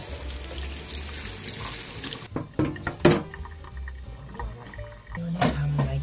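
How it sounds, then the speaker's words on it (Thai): Running tap water splashes over enoki mushrooms being washed in a sink, a steady close rush at first that gives way to intermittent splashes and handling knocks. "มีเห็ดเข็มตอนตัดหางทิ้งล้าง"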